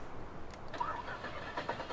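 An old truck engine in a farming video game cranks and catches, a faint, brief mid-range rumble under a low background hum.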